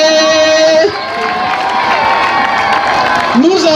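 Crowd cheering and whooping for the newly invested student president at a Notre-Dame de la Providence high school ceremony, a loud, steady mass of voices with children shouting, lasting throughout.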